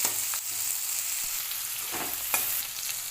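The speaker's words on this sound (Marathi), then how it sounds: "मी चिरून ते कांदे टाकायचे आपल्याला फ्राय करून घ्यायचं आहे" Chopped onions frying in a pan, a steady close sizzle with a few light stirring clicks, no voices.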